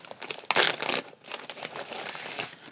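A plastic bag crinkles and rustles close up as it is handled, with a sharp burst of crumpling early on followed by softer, continuous crinkling.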